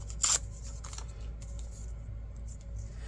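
Scissors snip paper into small stamp-sized squares, one sharp crisp cut up front followed by softer intermittent snips and paper rustles, close and fairly quiet with no speech.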